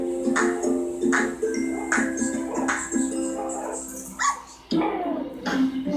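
Six Cairn Terrier puppies bark and yip close by in repeated high, bright bursts with whimpers between them, fairly loud and busy throughout.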